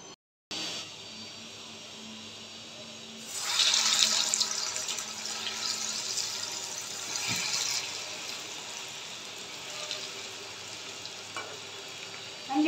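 Coated onion rings deep-fry in hot oil with a loud, continuous bubbling sizzle that swells as more batter hits the oil, then settles into a steady hiss.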